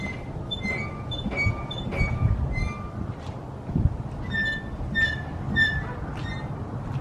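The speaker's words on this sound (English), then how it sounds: "The fact that it's just kind of an old, squeaky, creaky ass vehicle." Repeated high squeaks and creaks from the worn suspension of an old, LS-swapped Chevy S10 Blazer come in uneven bursts over a steady low rumble of the moving vehicle.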